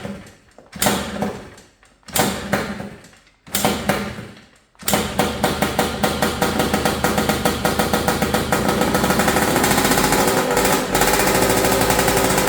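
A Yamaha Blaster two-stroke engine fitted with a cheap eBay turbo coughs through three short bursts, then catches and runs steadily at a loud, rapid, buzzing idle up close.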